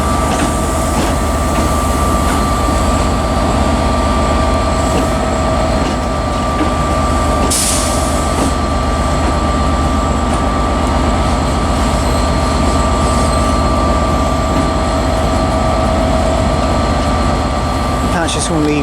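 An HST diesel train arriving at Inverness station gives a loud, steady engine roar and rail rumble that fills the whole stretch, with a sharp brief squeal midway and another near the end.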